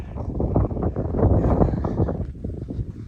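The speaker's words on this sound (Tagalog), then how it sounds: "Hangin pala, mahangin ano." Steady wind buffets the microphone at a campsite in Mabini, Bohol, with a low, continuous roar throughout, no clear voices.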